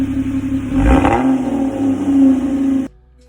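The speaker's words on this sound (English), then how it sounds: "There's even an exhaust clip, so let's go ahead and give it a listen." Aggressive exhaust from a modified 2013-era Ford Fusion, a loud steady droning engine note that swells and rises as it revs, near and alone, then cuts off abruptly.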